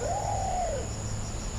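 A single soft hooting call from an imperial pigeon (peregam, kum-kum bird) rises and falls once, heard in a forest hunting setting over a constant insect drone and low hum.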